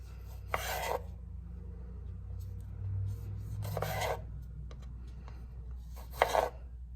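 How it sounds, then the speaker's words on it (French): A knife slices cherry tomatoes in half on a cutting board, three separate rasping cuts spaced a few seconds apart, close and fairly quiet, with no talk over them. "Donc, je vais mettre des tomates cerises. Vous pouvez mettre des grosses tomates. Je vais juste les couper en deux."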